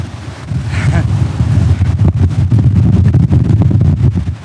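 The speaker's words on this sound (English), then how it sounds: "it's windy" Strong wind buffets the microphone on rocks beside the ocean, making a loud, steady roar with constant gusty rumble, and a brief human voice comes through near the start.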